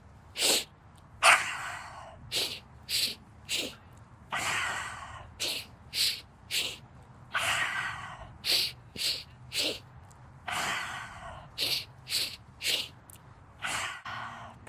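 Breath of joy breathing exercise, a repeated series of forceful, noisy inhales and exhales close to the microphone, steady and rhythmic, with quick sniffing intakes and longer breathy blows over a low background hum.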